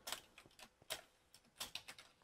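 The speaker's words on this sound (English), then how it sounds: "Can you hear my keyboard?" A computer keyboard clatters while a parkour puzzle map is being played: quiet, irregular bursts of crisp key clicks, close and soft, with no talking.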